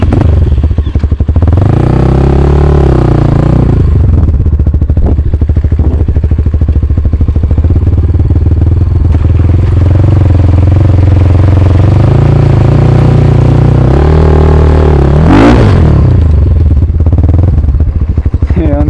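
An enduro motorcycle engine runs loud and close, with repeated revving swells and a sharp rise near the end, over a rumbling idle.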